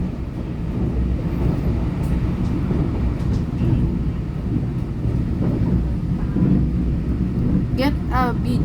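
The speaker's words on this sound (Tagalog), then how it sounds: "Get a video following the bullet train." A bullet train rushes past with a loud, continuous low rumble and roar, close and steady, with wind buffeting on the microphone and a brief chirp near the end.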